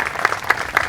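An audience at the opening of a new aquarium welcome center claps in a steady patter, a crowd's applause rolling on briefly with no distinct voices.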